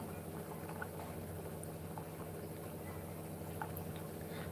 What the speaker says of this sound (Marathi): कढी जास्त उकळते मस्त